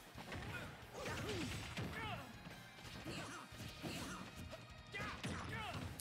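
Up smash attacks land in a Super Smash Bros match, a string of sharp crashing hits over busy game effects, with excited commentators talking throughout.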